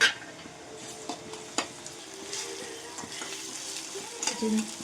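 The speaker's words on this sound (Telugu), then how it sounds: "పేస్ట్ పచ్చివాసన పోయేంత వరకు వేగిన తర్వాత" Ginger garlic paste frying with onions in a pan for a chicken fry gives a steady, close hiss of sizzling oil, broken by occasional scrapes of a stirring spoon, with no talking.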